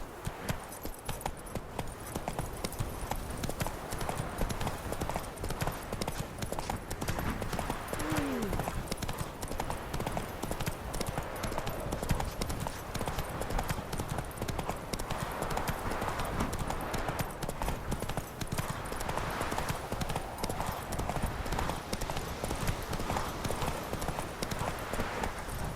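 Horse hooves galloping in The Witcher 3, a fast continuous clip-clop rhythm close by, running steadily throughout over ambient game background.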